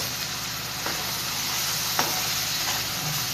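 Ground masala frying in hot oil sizzles steadily, with a few soft clicks of stirring scattered through.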